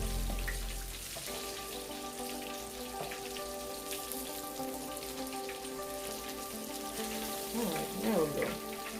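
Tilapia fish frying in hot oil in a pan, a steady hiss and crackle of sizzling throughout, fairly close, with faint clatter of tongs near the end.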